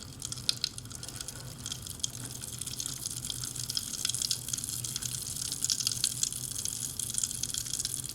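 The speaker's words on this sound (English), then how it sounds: "I can also see what happens when I stir each of the cups." Small candies are stirred in cups of hot and cold water, giving steady close liquid swishing with scattered drips and clinks running throughout, no voices.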